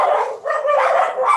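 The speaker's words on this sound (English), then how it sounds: "sorry about the dogs" Dogs bark repeatedly and loudly at close range, with sharp overlapping barks and a few higher yips forming a continuous burst with no clear gaps.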